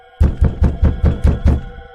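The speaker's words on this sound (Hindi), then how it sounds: "तभी शीला जोर जोर से दरवाजा पीटने लगती है" Someone pounds heavily on a door in a horror animation, seven loud, evenly spaced booming thuds in quick succession over a low hum.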